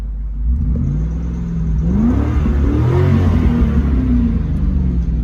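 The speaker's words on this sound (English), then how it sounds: "Rev it up first." A Ford Mustang Cobra engine revs up from idle, its pitch rising and swelling to a loud, sustained roar before settling slightly.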